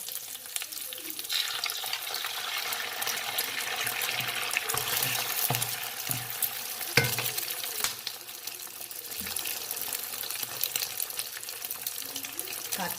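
Egg and cooked shrimp for fried rice are cooked in a pan, giving a steady close hiss of frying with occasional stirring scrapes and clinks over about thirteen seconds.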